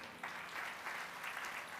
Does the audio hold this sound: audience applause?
yes